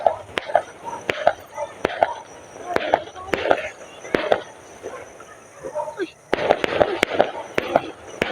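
Repeated sharp pops of fireworks go off at an irregular pace, moderately distant, with people talking quietly between the bursts.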